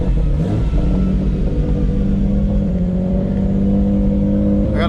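An 800 hp G35 coupe engine idling just after a cold start, a loud low rumble whose pitch hangs and wavers unevenly, close by with no talking.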